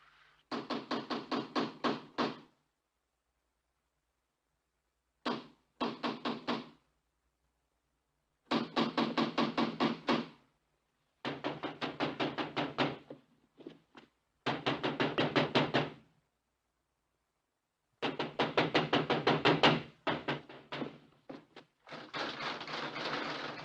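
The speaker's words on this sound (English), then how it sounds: "Somebody at the door." Bursts of sharp knocking at a door in a 1960 British film, several separate rapid volleys of raps with silent gaps between them, close and clear with no talk.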